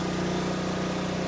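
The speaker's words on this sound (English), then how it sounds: "Got a generator running right now." A generator runs steadily in the background near a Raptor 660 quad being restored, a constant low droning hum with no variation and no talk.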